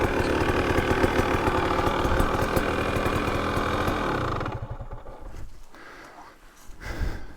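A 2023 KTM 300XC two-stroke dirt bike engine runs loud and close, a steady throbbing burble that suddenly drops away around midway, leaving faint ticking and quieter engine sound.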